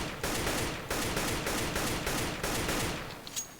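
Short bursts of tap-fired gunfire in the video game CS:GO, several clipped volleys separated by brief gaps, loud and close with no talking.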